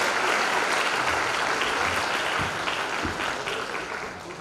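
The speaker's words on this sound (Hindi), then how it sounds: "और एक बार जोरदार ताली बजाइएगा ज़रूर टीम के लिए" An event audience applauds the organizing team, a dense, sustained wash of clapping that holds steady and then slowly fades toward the end, with no clear voices over it.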